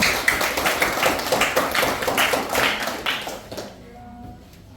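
Classroom of students clapping their hands together in a burst of rapid, dense applause that fades out after a few seconds, close and moderately loud.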